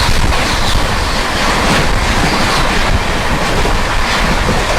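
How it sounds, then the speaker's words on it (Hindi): Ranchi–New Delhi Garib Rath Express passing close by, a continuous heavy rushing roar of wheels and wind, loud and unbroken with no voices. "सामने से आती है 12877 रांची नई दिल्ली गरीब रथ एक्सप्रेस"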